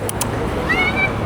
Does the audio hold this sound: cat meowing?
yes